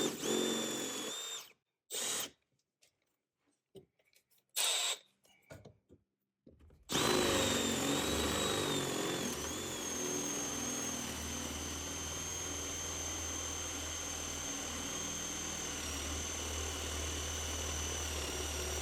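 A power drill fitted with a long bell hanger bit bores into a wall cavity. The motor revs in a few short stop-start bursts, then settles into one long steady whine under the grinding of the bit.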